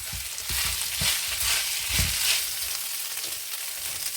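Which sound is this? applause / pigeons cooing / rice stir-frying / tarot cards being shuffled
rice stir-frying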